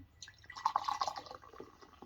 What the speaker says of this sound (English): Let me just pour this up real quick.